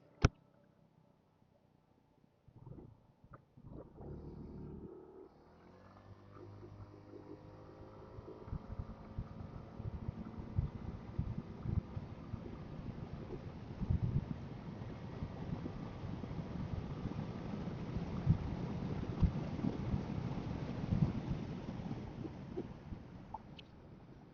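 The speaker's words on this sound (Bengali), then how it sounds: "চলুন তাহলে এবার ইঞ্জিনটা প্রথমে আমি আপনাদেরকে টেস্ট করে দেখাচ্ছি" A scooter engine, a Hero Xoom 160 or TVS Ntorq 150, starts after a few clicks and idles, then builds to a steady rough running drone that grows louder and rumbling toward the end, heard alone without talk.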